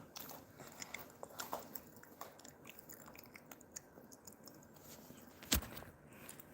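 A pet chews food close by, making faint, irregular crunchy bites and soft mastication sounds in a quiet room, with one sharper knock near the end.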